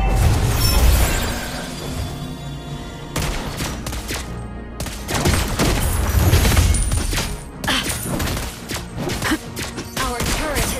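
Lesley's sniper gunshots in Mobile Legends, several sharp, loud shots and impacts in quick bursts amid busy battle effects, cracks and shattering sounds.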